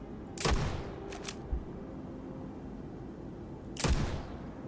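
Gunfire aimed at creatures in Starfield: two sharp bursts of shots about three seconds apart, each with a quick follow-up crack, loud and close over a low steady background hum.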